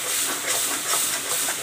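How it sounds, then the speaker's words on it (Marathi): Ground masala paste sizzles in hot oil in a pan while being sautéed for stuffed bitter gourd, a steady close hiss lasting under two seconds with no talking. "हा मसाला इथे परतून घ्यायचा आहे तेलामध्ये चांगला"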